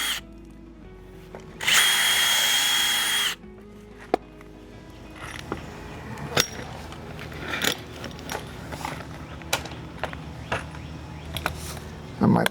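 Power drill driving pocket screws into PVC trim. A loud continuous whir of about two seconds comes first, then quieter clicks, taps and handling knocks close by.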